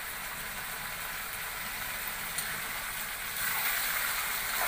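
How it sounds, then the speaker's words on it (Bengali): Beef sautéing in a pot over high heat on a stove, giving a steady, close sizzling hiss that swells louder toward the end, with no voices. "চুলার তাপ অনেক বাড়ায় দেওয়া হচ্ছে, বেড়ে গেছে আর কি, আসলে মাংস কষানো হচ্ছে।"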